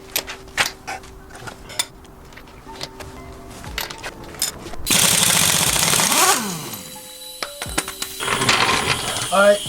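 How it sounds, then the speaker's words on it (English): An impact gun loosens the wheel lug nuts on a Land Cruiser 100 Series, a loud whirring, hammering burst following a stretch of scattered clicks and metallic handling sounds, with more rattling tool noise afterward. "This one was a little tougher, so I brought out the impact gun."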